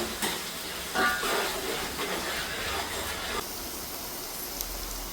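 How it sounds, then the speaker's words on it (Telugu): Onions fry in hot oil for a fish curry, a steady soft hiss and sizzle with a few brief louder crackles and stirring scrapes, moderately close and without talk. "ఇప్పుడైతే ఇవి చక్కగా గోల్డెన్ బ్రౌన్ కలర్ వరకు ఫ్రై చేసుకోవాలి."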